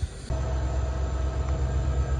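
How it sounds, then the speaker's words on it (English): An Alaska Railroad passenger train pulled by three diesel locomotives rumbles steadily close by, a loud continuous low drone of engines and rolling wagons that swells in abruptly after a brief quieter moment. "this is the Alaska Railroad train taking us all the way down to Anchorage."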